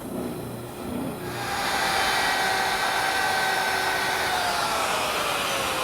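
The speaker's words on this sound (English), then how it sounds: "I'll cut it at my bandsaw" A bandsaw cuts a freehand decorative curve in a wooden chair crest rail with the table tilted, its motor whirring up and the blade hissing steadily through the wood at close range.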